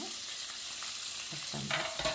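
Chopped onion and green chilies frying in oil in a pan, a steady faint sizzle with a few soft stirring scrapes toward the end, no speech.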